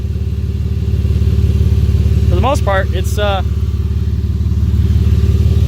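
An M52 B28 naturally aspirated engine in a drift car, fitted with a header and stock exhaust, idles with a steady, low rumble throughout while a person talks over it.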